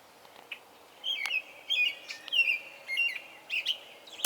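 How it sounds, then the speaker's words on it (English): A robin sings loudly along a butterfly trail, delivering a series of clear, close chirping phrases in bursts over a quiet background. "I hear this very loud bird. There it is. It's a robin."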